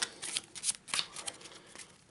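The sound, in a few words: shuffling the Eldritch Horror other world card deck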